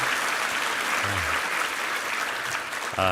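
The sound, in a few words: applause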